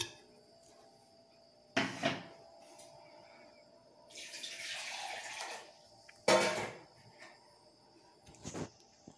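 Tap water splashing into a mixer-grinder jar as it is rinsed while making a Kerala sardine curry with coconut milk in a clay pot, a mid-clip stretch of running water between several short, loud clatters.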